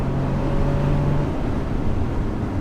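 A 2007 Bentley Continental GTC pulls hard at full throttle, a smooth, muted engine drone with a brief steady tone, heard from inside the cabin, continuous and moderately loud.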